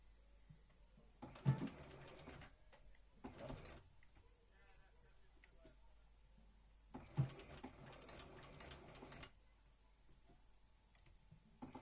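A sewing machine stitches a Regency dress in two bursts of rapid mechanical whirring with clicking, separated by quieter pauses filled with faint handling sounds.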